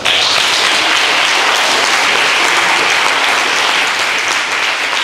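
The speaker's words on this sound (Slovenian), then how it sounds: "Za zaključek bi pa prosil še en topel aplavz za naše goste" Warm, loud applause from a cinema audience at a documentary film premiere in Domžale's town cinema, a dense, unbroken wall of clapping lasting about five seconds with no talk over it.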